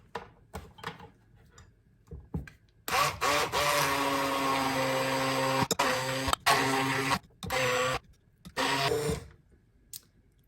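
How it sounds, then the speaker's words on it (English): A blender whirs through hard-boiled egg dough mixed with gelatin: a loud, steady motor drone in several long bursts, broken by short stops and clicks, after a few quieter knocks. "and blend it."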